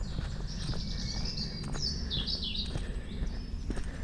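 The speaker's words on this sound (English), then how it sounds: "Listen to the birds, it's so beautiful around here." Birds chirp and trill outdoors, several quick calls in succession over steady wind or ambient rumble, moderately near.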